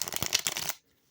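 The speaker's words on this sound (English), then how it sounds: "That was a very good shuffle." Tarot cards being shuffled in a quick, close riffle of crisp papery flutters lasting under a second, then stopping abruptly into silence.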